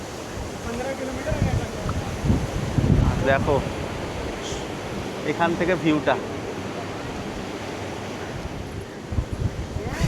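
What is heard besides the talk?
monsoon sea waves crashing against a wall, with wind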